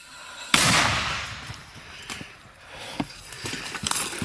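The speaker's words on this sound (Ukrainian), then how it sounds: "Постріл!" A mortar fires with a sharp, heavy boom that bursts out and rolls away, followed by scattered fainter thuds and crackles from further off.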